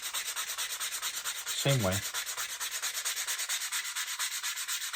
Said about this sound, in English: I'm going to go down the far side on there, put a little sand on the top.